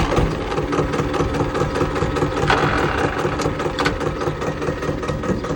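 A tractor engine runs at a steady idle, loud and close, with a continuous rattling chug that holds the same level throughout, alone without talk.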